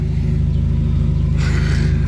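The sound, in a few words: car exhaust revving without a muffler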